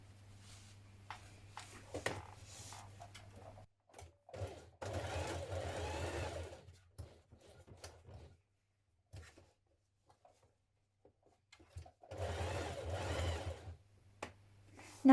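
A sewing machine runs in several bursts as it stitches a side seam of a dungaree piece, with quiet gaps and small handling sounds between runs; the motor hum is steady and close.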